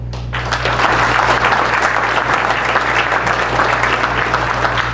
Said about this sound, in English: I'd like to give a big round of applause to all those that were involved